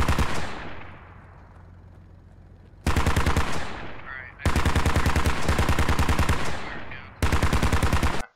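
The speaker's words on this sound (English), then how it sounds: "more HMG fire coming up the spine of this mountain" Heavy machine gun fire in the Squad military shooter, a sustained rattling burst followed by three more long, loud bursts broken by short pauses, dense and close, with a low rumble trailing between volleys.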